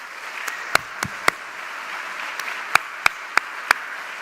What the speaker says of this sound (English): please join me in giving your faculty a big round of applause